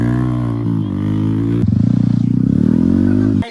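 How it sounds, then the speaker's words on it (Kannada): A Yamaha R15 motorcycle labours up an offroad hill, its engine droning loud and close and then pulsing in a rapid throbbing rhythm as it strains upward. "R15 ಅಂತೂ ಇಂತೂ ಮೇಲೆ ನುಗ್ತಿದೆ."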